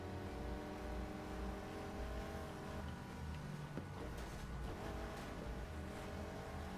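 A race car in the Need for Speed Heat video game revs hard and drifts through a short lap race, with a loud continuous engine drone, gear shifts and tire squeal and no one speaking over it.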